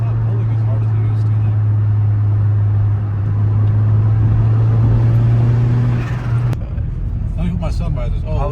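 A thirty-year-old turbocharged Honda car accelerates with a steady engine drone, loud and close, that cuts off sharply about two-thirds through, after which there is rattling and handling noise.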